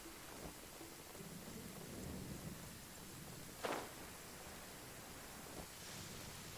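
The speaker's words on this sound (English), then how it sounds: "it's raining" Steady rain hiss fills an in-game outdoor scene in Genshin Impact, with a sharp thunder crack near the middle and a fainter rumble toward the end, no voices.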